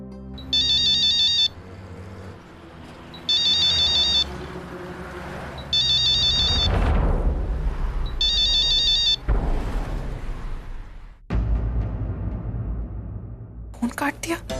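A phone ringtone repeats in four regular electronic bursts with pauses between them while a call is placed, followed by low background sounds, a sharp cut and a brief final clatter.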